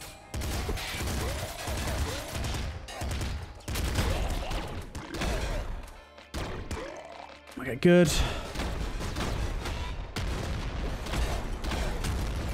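The psy bullet cannon in the video game Nuclear Throne fires in dense rapid bursts of punchy shots and booms, with short gaps, while someone talks over the gameplay.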